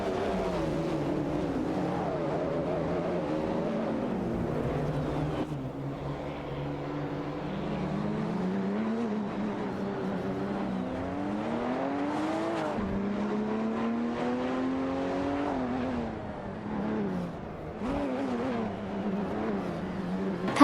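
Race cars such as a Jaguar XJ220 and a Peugeot 205 T16 howl through a racing video game, layered engine whine sweeping up and down through gear changes, with occasional tyre squeal, continuous and loud.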